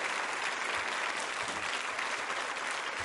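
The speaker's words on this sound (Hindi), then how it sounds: "तालियां बजाइए उनके सम्मान में जोरदार तरीके से।" Sustained, dense applause from an audience at a tourism quiz show in a women's vocational training institute, steady and loud throughout with no voices standing out.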